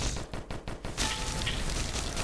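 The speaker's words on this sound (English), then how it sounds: "Nice chain explosion there." Chain explosion of enemies in the video game Disfigure: a rapid burst of sharp cracking blasts gives way to a dense, continuous roar of overlapping explosions, loud and close.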